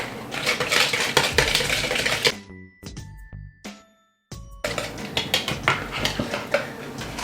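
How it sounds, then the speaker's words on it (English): Egg and vanilla are whisked together in a bowl, a brisk, rapid clatter of whisk wires against the bowl that pauses briefly midway and then resumes, close and loud, with no talking. "now we're gonna whisk this guy together"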